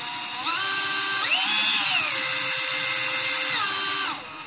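A brushless Dewalt cordless drill runs freely with a steady, loud whine that ramps up in pitch, holds at speed, then slows and winds down.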